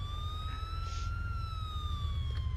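An ambulance siren from the video game GTA Liberty City, The Ballad of Gay Tony, wails in steady, slowly bending tones over a constant low engine and street rumble.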